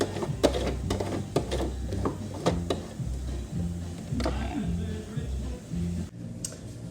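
A home sewing machine stitching a blind hem, advanced by turning the hand wheel, giving steady close mechanical ticking and a low thumping rhythm in a quiet room.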